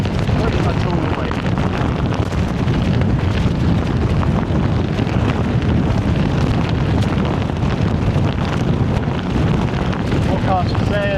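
Strong headwind buffets the microphone on an exposed road during a group bike ride, a loud, continuous roaring rush that blankets everything for the whole stretch with no letup.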